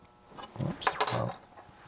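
A metal wrench being handled, giving a few short clinks and clanks in a brief cluster amid quiet, close by and fairly soft, with no talk.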